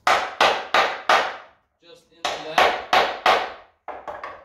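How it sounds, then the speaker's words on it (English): A roll pin is driven with a hammer into shim stock resting on a wood block: two bursts of four sharp, ringing blows separated by a short pause, then a few lighter taps, all close and loud. "I'm gonna take one of the roll pins. I'm gonna drive it in"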